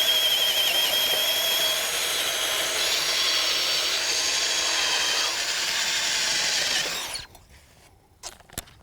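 A RIDGID 18-volt sub-compact brushless drill turns a 7/8-inch bit on low speed, boring through wood with a steady whirring grind that stops abruptly near the end, followed by a few faint knocks.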